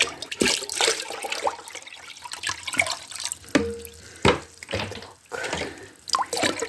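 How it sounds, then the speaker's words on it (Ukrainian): Water runs into a bucket to bring a copper sulfate mixture up to 10 litres for early-spring tree spraying, a steady splashing flow with irregular louder gushes and a few sharp clinks, close by, with no talk. "Добавляємо в купорус доводимо до 10 літр водички, щоб було 10 літрів."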